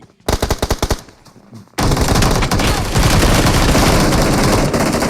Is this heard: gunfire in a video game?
yes